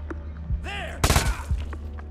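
A few gunshots in the video game Agent 01 ring out as sharp bursts over a low steady hum, with a brief rising electronic sweep before them.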